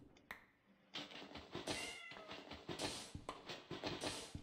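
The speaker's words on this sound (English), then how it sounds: "it's the cat on the TV" Cat meowing from a television while a Minecraft island adventure game is played, several drawn-out meows and yowls in a row, fairly loud and close, with no talk over them.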